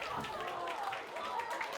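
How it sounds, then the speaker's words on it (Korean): Students in a lecture hall cheer and clap as a lecturer walks in, a dense, continuous wash of applause and excited shouting voices from a crowd, steady and fairly close. "학생들은 좋아하는 연예인을 맞이하듯 열렬하게 환호합니다"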